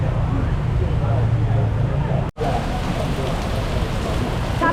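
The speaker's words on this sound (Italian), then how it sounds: "Sta piovendo forte e sembra rafforzarsi" Heavy rain pours at night in Kuala Lumpur, a loud, steady, dense wash of sound that cuts out for a moment and then continues unchanged.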